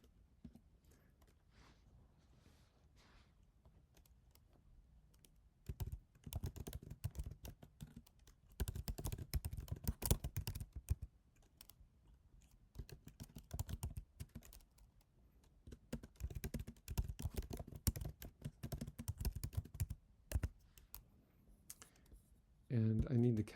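Bursts of quick, clicky typing on a computer keyboard as code is written, with quiet gaps between them, heard close and alone with no talking.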